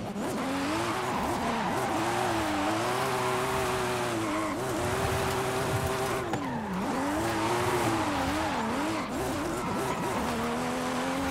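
Toyota FD Supra in Forza Horizon 5 drifting up a mountain road, its engine droning loudly and continuously with rising and falling revs while the tires squeal through the slides.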